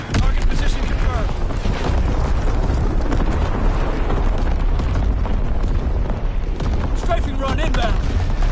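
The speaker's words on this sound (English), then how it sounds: "Firing division artillery." Artillery explosions in Call of Duty WWII: a dense, continuous barrage of loud booms and rumbling blasts with scattered gunfire. A voice talks over the battle noise.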